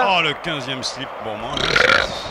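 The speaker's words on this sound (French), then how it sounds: "Vous êtes dégueulasse de venir nous roter au micro" A loud, close burp made straight into a microphone amid lively football commentary, with a short stretch of French speech around it.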